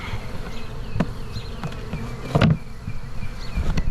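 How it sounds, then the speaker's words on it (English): A steady, low buzz of a honeybee swarm being hived drones throughout, with a few louder bumps and knocks breaking through. "we're just gonna watch the rest of the bees just march in"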